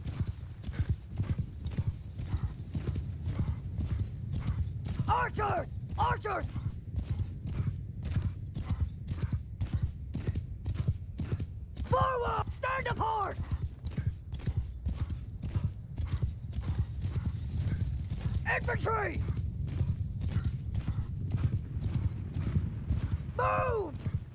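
Steady rhythmic hoofbeats of galloping horses with occasional whinnies, constant and fairly loud, a game battle scene with no clear talk.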